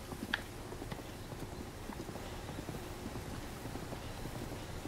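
Horse hooves clip-clopping in a steady trotting rhythm as the horse is ridden across open ground in The Legend of Zelda: Breath of the Wild, even and fairly quiet over a soft ambient background, without speech.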